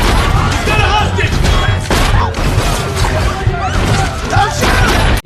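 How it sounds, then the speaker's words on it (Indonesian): Loud, rapid gunfire in a chaotic film shootout, shots and crashes overlapping with shouting voices throughout. "Sesaat kemudian aksi tembak-tembakan pun terjadi."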